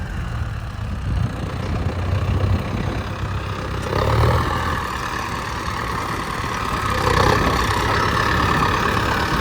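A Mahindra, Swaraj or New Holland 4WD tractor works a farm field. Its diesel engine drones steadily and swells slightly as it draws nearer, moderately loud with no talking.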